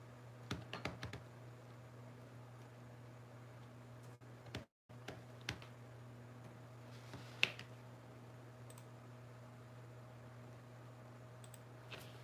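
Quiet typing on a computer keyboard, a few scattered bursts of clicking keystrokes over a steady low electrical hum, with long gaps between them.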